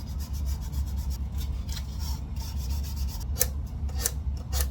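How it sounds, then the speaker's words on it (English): Gentle, steady rubbing of sandpaper over worn varnish on a violin's wooden body, a soft continuous rasp with faint repeated strokes, close and quiet, with no talking. "this area here has some worn varnish, so I'm just very gently sanding the area."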